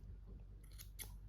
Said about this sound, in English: cut our yarn